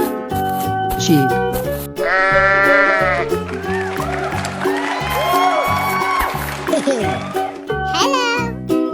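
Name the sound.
sheep bleating in a 3D animal video game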